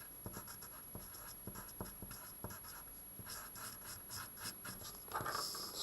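A pen sketches a curve graph on paper in a quiet room, giving a faint scratching with a string of short strokes early on and softer continuous rubbing after, heard alone.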